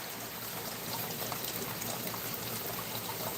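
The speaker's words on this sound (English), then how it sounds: "All we hear now is the waterfall." A garden pond waterfall gives a steady, close rush of splashing water, constant throughout with no talk.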